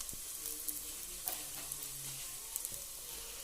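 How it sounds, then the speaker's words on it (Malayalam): Chili powder fries with sliced onions in a pan for a Kerala fish curry, giving a soft continuous sizzle broken by a few light scrapes of a spoon, with no voices. "മുളക് പൊടി ഒന്ന് നല്ലതുപോലെ ഒന്ന് മൂപ്പിച്ച് കൊടുക്കാം."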